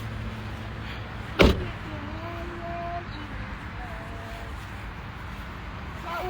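A car door shuts with a single sharp thump as people get out of a car, followed by quiet background hum and faint tonal chirps.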